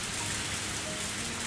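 Heavy rain falls in a dense, steady wash of noise, a constant close downpour with no pauses, used as a sound effect in a visual novel game.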